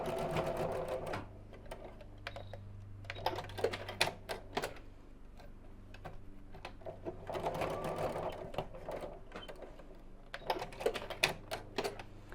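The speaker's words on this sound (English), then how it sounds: "And then we'll just sew across these 2 sides within the seam allowance, so quite close to the edge" A domestic sewing machine stitches a small zipped fabric pouch close to the edge within the seam allowance, running in several bursts of rapid whirring separated by pauses filled with quieter handling clicks.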